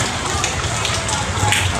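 Rain pouring steadily at an open-air market, a dense even hiss of drops on surfaces with no break over a couple of seconds.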